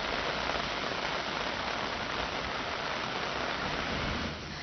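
Heavy monsoon rain pours down in Raigad district, Maharashtra, in a dense, steady roar, loud and close throughout, with no voices.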